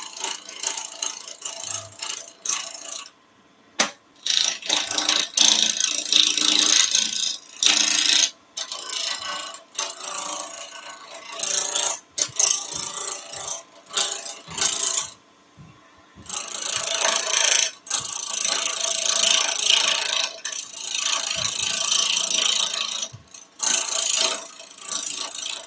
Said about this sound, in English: So I'm going to bowl gouge first, and we're just going to rough out